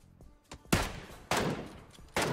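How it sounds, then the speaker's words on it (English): Rifle fire from AKM and MK14 guns in a competitive battle royale match, with three loud, sharp shot bursts spaced apart and fainter pops between them. "More shots going out from everyone, moving over towards IDK with that MK14, taking shots at anyone that he can see"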